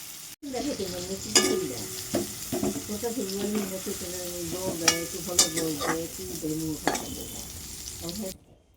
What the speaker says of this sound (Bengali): এখন আলুগুলোকে নেড়ে চেড়ে পেঁয়াজ আলুটা লাল লাল করে ভেজে নেবে